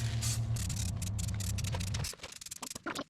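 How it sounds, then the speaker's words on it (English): A hissing aerosol brake cleaner spray on new brake rotors of a 2005 Ford F-250 runs steadily for about two seconds, then stops, followed by a few light clicks and taps. "Always spray your new rotors with some brake cleaner"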